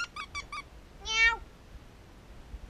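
A cat meows in a quiet indoor setting, giving three short mews in a quick row and then one longer, drawn-out meow, close and moderately loud with no talking.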